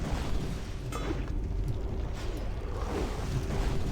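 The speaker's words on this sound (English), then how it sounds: "Maybe the explosion is hurting us." Explosion in WoW Classic's Uldaman dungeon, a dense, sustained roaring rumble with a broad noisy wash and a few muffled bursts, steady and loud throughout, no talking.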